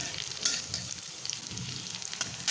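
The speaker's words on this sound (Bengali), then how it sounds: "রসুনটা কুচি করে দিয়েছি এতে ফ্লেভারটা খুব সুন্দর আসবে এগুলো একটু হালকা লালচে করে ভেজে নেব" Chopped garlic frying in a pan for a cabbage and egg dish, a dense close sizzle with soft stirring scrapes throughout the short stretch, no one speaking.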